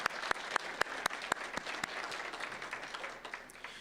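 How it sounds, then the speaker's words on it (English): An audience at a Phi Theta Kappa honor society formal induction ceremony gives a round of applause, starting with crisp, evenly spaced claps that blur into a softer, steady patter as it fades. "That deserves a round of applause"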